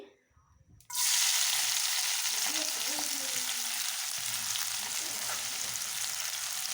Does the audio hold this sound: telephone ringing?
no